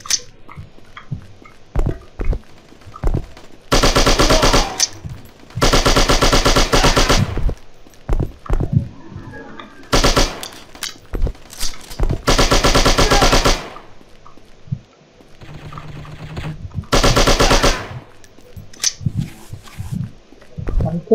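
Automatic AK rifle fire in a shooting video game comes in long, loud sustained bursts separated by quieter gaps that hold footsteps and small clicks.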